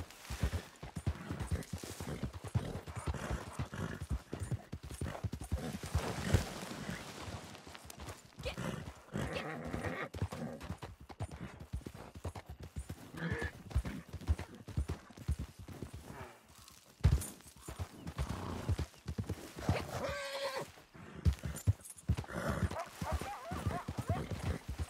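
Horse hooves clip-clopping steadily in Red Dead Redemption 2 as a rider heads over a hill, with a neighing whinny near the end, mixed with game noise and someone talking.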